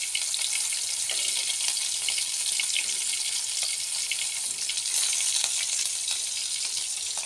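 Fish pieces fry in a pan with a constant, even sizzle and fine spitting crackle that holds at moderate loudness for the whole stretch, with no voices.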